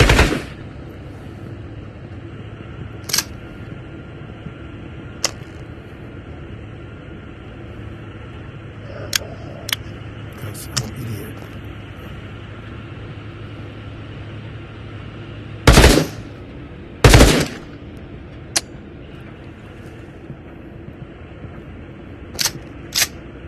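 Gunfire in Into the Radius: a few sparse single shots, then two loud close bursts, with more isolated shots afterward over a steady low ambient hum.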